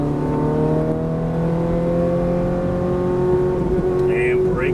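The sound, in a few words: Ferrari F430 accelerating under hard throttle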